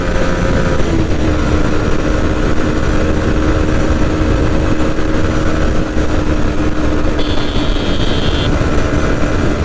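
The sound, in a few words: Yamaha MT15 motorcycle accelerating in top speed test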